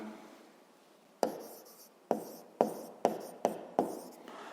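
Close writing strokes as points are marked in coordinate quadrants for a sixth-grade maths exercise: one stroke, a pause, then five quick scratchy strokes that each begin with a crisp tap and fade out.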